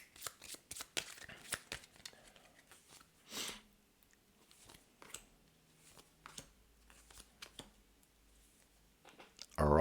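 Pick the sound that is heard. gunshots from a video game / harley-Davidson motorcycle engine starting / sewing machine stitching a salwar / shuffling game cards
shuffling game cards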